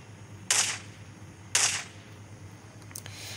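AWM sniper rifle fire in a dinosaur-hunting driving video game: two sharp, loud single shots about a second apart, followed by a fainter crack, over a low steady hum.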